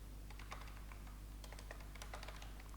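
Typing on a computer keyboard, quick clusters of soft clicking keystrokes, close but quiet over a low steady hum, with no talking.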